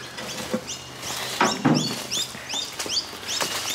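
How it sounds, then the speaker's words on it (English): A small bird chirps in a tree, a series of quick, high, repeated tweets at a steady rhythm, fairly close and clear over a soft low background hum. "So that little bird you can hear up in the tree"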